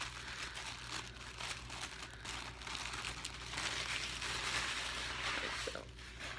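Tiffany-coloured tissue paper is unwrapped and crinkled softly at close range, a faint, continuous rustle with small crackles and no talking.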